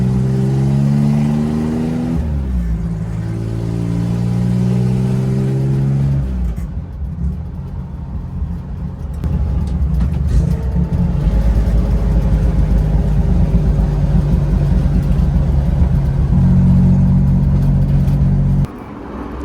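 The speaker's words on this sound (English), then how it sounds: "We're driving the Corvair." A Chevrolet Corvair engine hums steadily while driving, loud and close, with pitch rising and falling through gear changes and one brief drop near the end.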